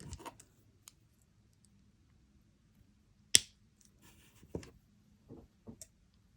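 Jewelry wire is snipped with a cutter after wrapping a loop, making one sharp, quiet click, surrounded by faint handling taps in a near-silent room.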